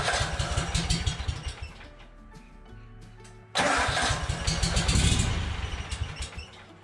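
Small engine on a Yazoo Kees ZT Max commercial zero-turn mower cranking with rapid starter chugs, catching and sputtering briefly, then cranking again and firing up to a rough, loud run.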